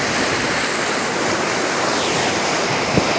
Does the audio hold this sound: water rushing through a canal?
yes